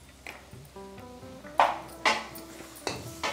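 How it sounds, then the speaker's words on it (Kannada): Metal spoon clinks against a pan while coriander powder goes in during cooking of a North Karnataka alasande (black-eyed pea) curry, a few sharp pings and taps over a quiet background. "ಈಗ ಧನಿಯಾ ಪುಡಿ ಹಾಕಾಕತ್ತೇನೆ ರೀ"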